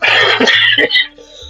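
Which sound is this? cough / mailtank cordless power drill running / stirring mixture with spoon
cough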